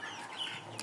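A 46-day-old Sonali chicken on a poultry farm gives a short, soft cluck, quiet and fairly close, with no talking.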